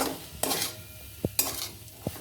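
Fried carrots and beans are stirred into a pan of chicken egg noodle soup, with a few distinct scraping strokes and light utensil clinks over a faint simmering sizzle.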